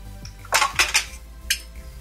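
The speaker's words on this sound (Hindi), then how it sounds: "अब मैंने गैस ऑफ कर दिया और मैं इस कुकर को खोल लेती हूँ" Metal kitchenware clatters as a pressure cooker is opened after cooking vegetables, giving several sharp clinks and clanks of pots, lids and utensils over a low hum, close and fairly loud with no talking.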